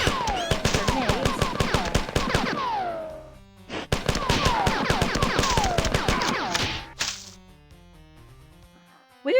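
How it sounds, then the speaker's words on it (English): Grenade launcher fire in the video game Marathon, two rapid bursts of sharp repeated shots with ringing metallic tails, loud and close, separated by a brief pause and followed by a quieter electronic tone. "we're gonna fire off a few grenades"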